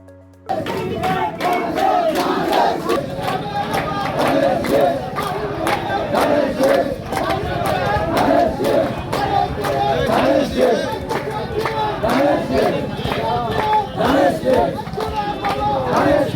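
A large crowd chants slogans in unison at a BNP election procession in Nalitabari backing candidate Engineer Fahim Chowdhury, loud and continuous with rhythmic shouted phrases throughout.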